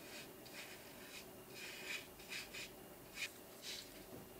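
Watercolor felt-tip marker coloring a fir tree drawing on paper, heard as faint, short scratchy strokes that come in uneven bursts over a quiet background.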